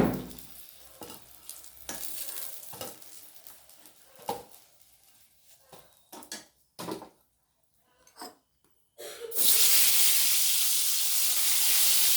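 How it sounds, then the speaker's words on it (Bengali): Eggplant slices fry in oil in a pan, with intermittent sizzles and stirring clatters spaced by quiet gaps before a loud, continuous sizzle takes over near the end. "আমি বেগুনগুলোকে বেশ এরকমভাবে লালচে করে ভেজে নিয়ে তুলে নেব।"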